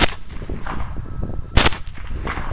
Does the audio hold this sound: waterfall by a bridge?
no